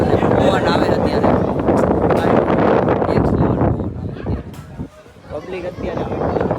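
Strong wind buffets the microphone on the hilltop at Chotila, a loud continuous rumbling roar that eases toward the end, with people talking underneath.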